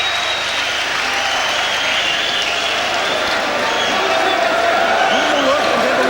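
A boxing crowd at a Steve Robinson versus Paul Hodkinson fight roars and applauds between rounds, a loud continuous arena din with cheering voices rising and falling.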